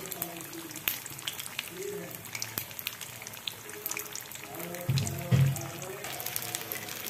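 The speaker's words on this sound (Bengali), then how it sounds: "এই যে চিকেনগুলোকে আমি আবার ভাজা শুরু করলাম।" Chicken frying in a pan on low heat, a gentle steady sizzle with soft clinks and a louder burst of bubbling partway through, while a voice talks quietly over it.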